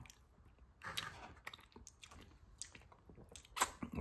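Someone bites into and chews cheesy, Parmesan-garlic Domino's pizza up close, with soft, irregular crunches and mouth sounds at a quiet level.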